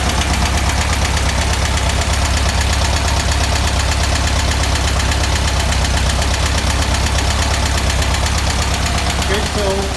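Air-cooled engine of a 1971 VW Super Beetle running steadily up close, a loud, even, buzzing rumble with a fast regular beat throughout.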